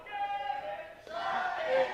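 Raised voices from a crowd at a Los Angeles city council meeting, shouting and chanting that swells louder in the second half, with one man stirring them up over a reverberant room.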